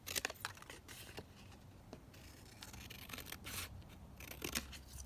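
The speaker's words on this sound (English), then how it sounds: "let's cut this one down. Like that. And then just trim it down here." Scissors trim paper ephemera in quick, close snips and crisp cuts, with bursts at the start and end and quieter rustling of paper between, faint overall.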